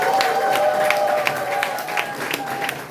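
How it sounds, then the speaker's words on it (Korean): Applause from a room of party members at a Democratic Party meeting in Daejeon, steady crowd clapping at moderate volume with faint scattered voices beneath it. "다시 한번 격려와 응원의 박수 부탁드리겠습니다."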